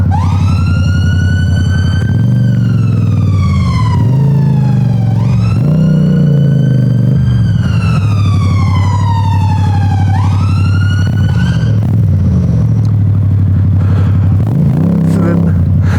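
A loud ambulance siren wails continuously, its pitch sweeping slowly up and down in long repeating cycles over a rumbling engine, the ambulance stuck on shut-off streets.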